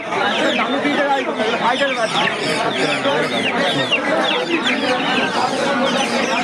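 A fighter chicken clucks continuously and loudly at close range, a dense run of squawks and clucks with people talking over it.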